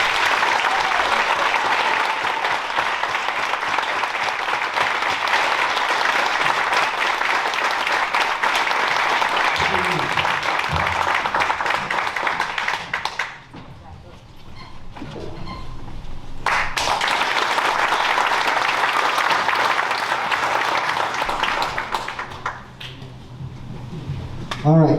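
Sustained applause from a graduation audience at an honor grad night fills the hall for Gabriel Thomason, loud and dense, briefly dipping midway before swelling again and fading near the end.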